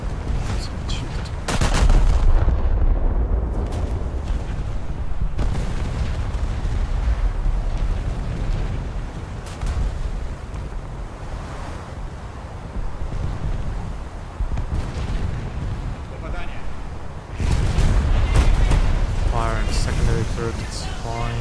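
Warship guns firing in a naval video game, sharp booming blasts scattered over a rumbling wind-like battle bed, loud and close, with someone talking between shots.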